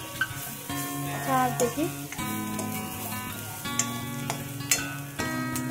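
Turmeric and asafoetida crackle gently in hot oil, a steady close sizzle with light stirring scrapes, while a voice speaks briefly over it and music plays underneath.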